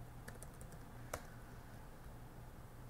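A few quick keystrokes tap on a computer keyboard as a command is entered into a Windows command prompt, faint and close, with one slightly sharper click partway through and no talk.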